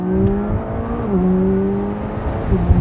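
Sports cars with roofs down, including an AMG GT C, Audi R8 quattro, McLaren 570S and BMW i8, pull away at a race start with a loud, close, steady engine drone whose pitch bends and shifts, and no voices.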